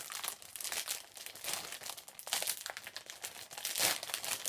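A plastic bag is torn open with teeth, giving crinkling and tearing sounds in close, repeated bursts across the whole stretch with no talk over it.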